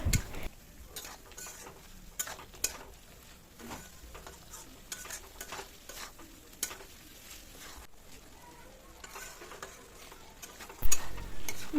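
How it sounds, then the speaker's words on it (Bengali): A spice mix with pointed gourd and cashews sautéing in a pan, with soft sizzling and repeated scraping taps of a spoon stirring at an irregular rhythm, close and fairly quiet, no talking. "এরপরে সব কিছু আবারও ভালো করে মিশিয়ে নিয়ে আরও কিছুক্ষণ ভালো করে কষাতে থাকবো।"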